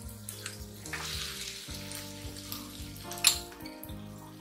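Onions fry in a pan for stuffed capsicum, a steady close sizzle with faint stirring and clinks and one brief sharp clatter near the end, heard without talk.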